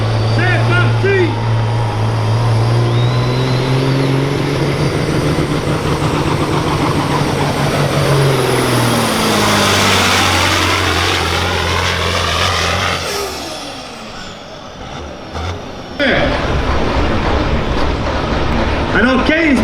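A semi truck roars as it drags a weighted sled at a truck pulling competition, its loud engine droning near and then easing as the pull winds down, with a voice over the loudspeaker.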